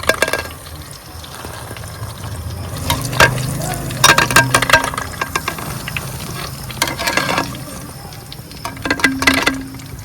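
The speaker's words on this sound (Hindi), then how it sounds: "हमारे बैंगन जो है ना वो अच्छी तरह से फ्राई हो चुके हैं" Fried eggplant sizzles steadily in hot oil, broken by repeated scraping stir strokes and sharp crackling bursts from the pan, close and fairly loud.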